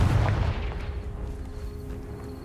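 A Confringo fire spell in Hogwarts Legacy lands as a single dull, booming blast at the start, then fades into a low rumbling tail.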